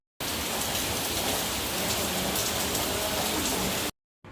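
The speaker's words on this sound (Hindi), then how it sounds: "खूब तेज़ बारिश हो रही है माशाल्लाह" Heavy rain pours steadily and loudly outdoors, a dense unbroken hiss close by with no voices, cutting off abruptly near the end.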